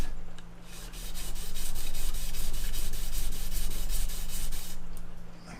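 A card scraper's face rubbed lightly on a sharpening stone to clear the burr, a steady close abrasive rasping that holds evenly for several seconds over a low constant hum.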